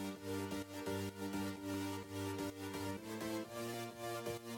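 Dance-track chord section built from organic and synth layers, sustained harmonic chords with a steady pulsing rhythm and regular ducking dips, fairly quiet and full, no talking.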